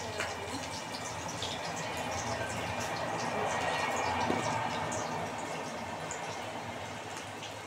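Onions frying in a pan for paneer manchurian, a continuous bubbling sizzle at an even level throughout, with no speech over it.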